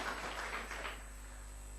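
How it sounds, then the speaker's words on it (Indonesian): A church congregation claps in a brief, dense burst of applause that fades out after about a second, leaving a low steady hum. "Setuju, berikan tepuk tangan."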